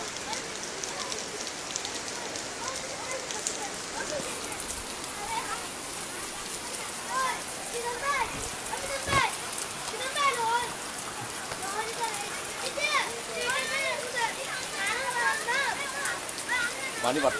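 Heavy rain pours steadily by the swollen Sangu river in Bandarban, a dense, even hiss that fills the whole stretch, with a voice talking underneath.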